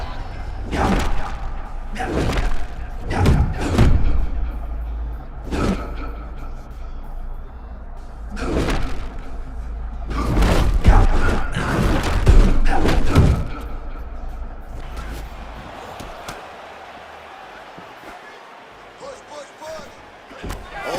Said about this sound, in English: picture-perfect body shot there, he's hurt